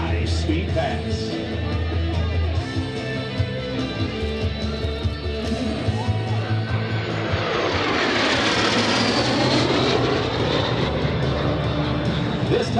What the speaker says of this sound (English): This is the L-39's high-speed pass.